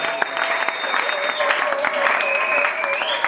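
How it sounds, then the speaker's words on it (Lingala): A church congregation applauds in a steady, dense patter of many hands clapping, sustained throughout, with a sustained tone and voices audible underneath. "Est-ce qu'on peut acclamer le Seigneur?"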